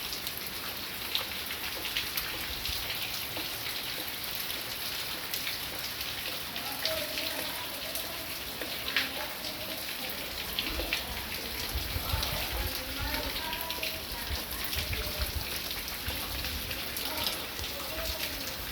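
Heavy rain pours down steadily in a dense, continuous hiss, with a low rumble underneath and scattered drips, like a shower spraying from a fountain, lasting throughout with no voices.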